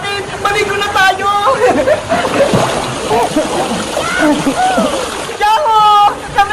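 People splash and plunge into a swimming pool, water sloshing loudly amid a lively babble of voices, laughter and shouting throughout.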